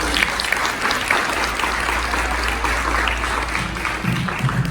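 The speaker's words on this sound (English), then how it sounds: "give him a round of applause" Audience claps at a Men of Chandler community event, a dense, continuous round of applause over a low hum, with a voice briefly emerging near the end.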